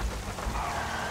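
Heavy rain pours down in the video game GTA 5, a dense, steady hiss of downpour with no talk, continuous and fairly loud through the short moment.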